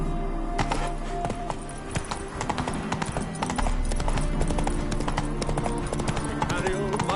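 Hooves of Roach, a horse in The Witcher 3, clip-clop in a steady trotting rhythm, close and distinct over game music and ambience, with a voice talking briefly.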